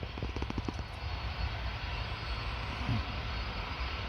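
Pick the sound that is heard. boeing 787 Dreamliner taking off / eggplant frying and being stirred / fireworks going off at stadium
boeing 787 Dreamliner taking off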